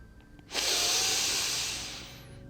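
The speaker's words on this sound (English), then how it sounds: "Rub your hands together and place them on your heart." Palms rubbing briskly together during a yoga session, a close, loud, breathy friction hiss that starts abruptly and fades out over about two seconds.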